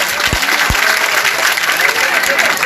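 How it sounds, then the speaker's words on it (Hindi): An audience claps loudly and steadily at a Hindi devotional satsang with live bhajan singing, a close, continuous wash of applause from a crowd. "एक बार दोनों हाथ उठा के जोरदार ताली बजाए थे कैलेंडर जी के लिए।"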